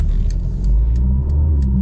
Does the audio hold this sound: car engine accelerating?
yes